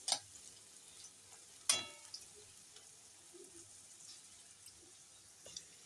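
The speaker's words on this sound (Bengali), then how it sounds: "একই তেলে আমি প্রথমে একটু আলুগুলো ভেজে নিচ্ছি।" Potatoes fry in the same oil used for chital fish, giving a faint, low sizzle. A few sharp clicks and utensil knocks stand out, one of them louder.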